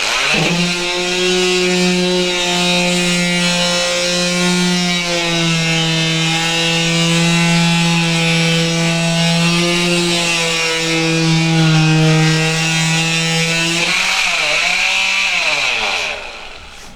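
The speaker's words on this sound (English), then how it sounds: "take your power sander and you're just going to want to go over it very lightly in kind of a circular motion" A power sander running steadily over a wall stripped of textured paint, a loud continuous whine holding near and even before winding down at the end, no voices.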